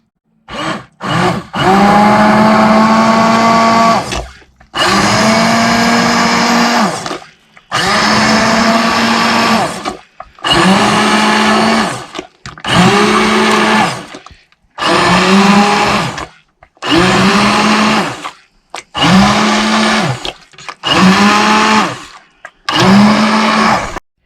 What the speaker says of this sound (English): And now I'm going to blend it up with a hand blender